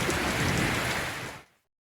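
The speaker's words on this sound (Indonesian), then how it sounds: "Sekarang hujan." Steady rain makes a dense, even hiss that holds for about a second and a half, then cuts off into silence.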